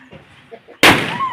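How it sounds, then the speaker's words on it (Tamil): Quiet murmuring background, then one sharp, loud coin firecracker burst during Diwali that cuts in suddenly and trails off into hissing noise. "காசு வெடி அடிக்க போறான்."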